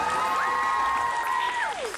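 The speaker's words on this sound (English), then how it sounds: "so big round of applause" A crowd at Overload 2021, an anime and cosplay convention in New Zealand, applauds a first-time cosplay competitor, with a sustained tone sliding up and back down over the clapping.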